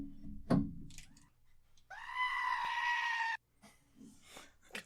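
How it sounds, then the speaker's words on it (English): A goat bleats in one sustained, loud, wavering cry lasting about a second and a half, with quieter rustling and thumps before and after. "That's a goat"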